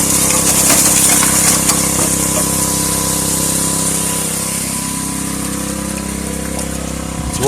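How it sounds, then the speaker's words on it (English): Small gas engine on a Harbor Freight 37-gallon-per-minute, 1-inch clear water pump runs steadily and close by at a creek, a constant droning hum with no talk, easing slightly in level partway through. "I'm just running a Harbor Freight 37 gallon a minute 1-inch clear water pump."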